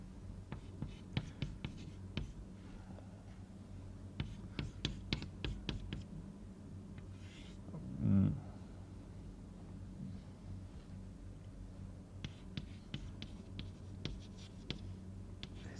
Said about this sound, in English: I just again write down the relation